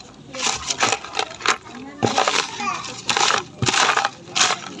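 Coins dropping and being handled while counting money for a challenge, with repeated metallic clinks and jingles in short clusters, close and fairly loud, alongside background voices.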